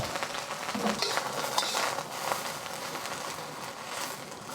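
Chive stems and mushrooms fry in a wok with a tablespoon of avocado oil, a steady close sizzle with a few scraping stirs and light clinks throughout.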